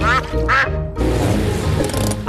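A cartoon duck from Peppa Pig quacking loudly in a few nasal bursts at close range, followed by busy animated background sound.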